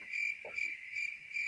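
A cricket sound effect chirps in short, evenly spaced trills, clear and steady, played during an awkward pause on an online call, with no talking.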